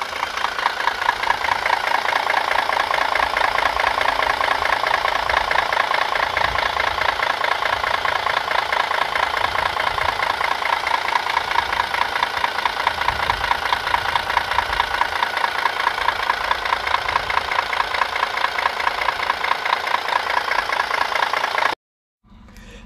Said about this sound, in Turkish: Hep beraber motoru dinleyelim.